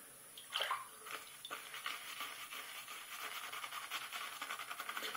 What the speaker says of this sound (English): All right, a little more water.